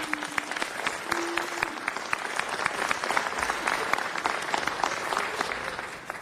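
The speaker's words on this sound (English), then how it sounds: "let's give Richard a round of applause" An audience at a city council meeting gives a round of applause, many distinct claps ringing out at moderate volume in a steady patter that tapers near the end.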